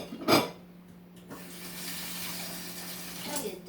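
A kitchen tap runs steadily as something is rinsed during home baking, a continuous hiss with a sharp splash near the start and a second brief burst near the end.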